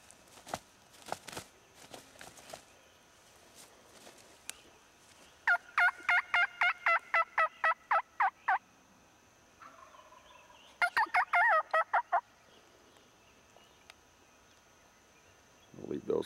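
Outdoors after a turkey hunt, roughly two-year-old turkeys gobble in rapid bursts, with scattered clicks and rustling and a later stretch of gobbling, fairly close and clear over a quiet background.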